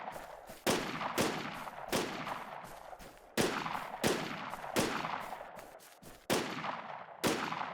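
Gunfire from a first-person shooter game rings out as a run of loud, sharp shots at irregular intervals, each with a short reverberant tail, close and with no voices.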